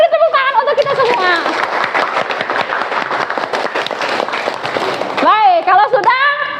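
Classroom applause, steady clapping from a room full of students that carries for several seconds, with voices chattering and calling out over and around it.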